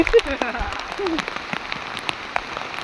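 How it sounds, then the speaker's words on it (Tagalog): Heavy rain pattering steadily on surfaces and plastic, dense close drumming throughout with a few sharper drops, while people talk over it. "grabe talaga ang ulan, no?"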